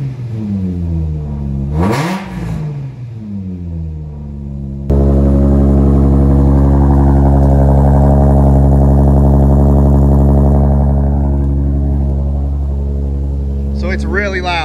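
A naturally aspirated Toyota 2JZ engine is revved hard: a brief rising blip, then a sustained loud, steady high-rpm roar with dense harmonics that gradually eases off, with no talking.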